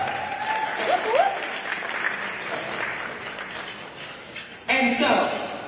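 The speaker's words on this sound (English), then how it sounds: "Round of applause." An audience claps steadily at a civil rights roundtable at a festival. The applause fills the room, a voice speaks over it, and it swells sharply louder near the end.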